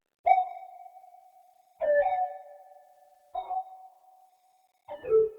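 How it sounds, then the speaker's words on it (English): An analog-style synth plays a slow repeating pattern of four sustained, pitched notes, each starting sharply and fading, with short gaps between them. "We got this one synth that's playing one pattern during the chorus."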